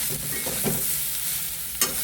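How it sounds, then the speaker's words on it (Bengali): Vegetarian soybean curry being stirred in a frying pan, steady oily frying hiss with soft scraping strokes of the spoon and one sharper clank near the end, no one speaking. "তো এবার আর একটু নাড়াচাড়া করি।"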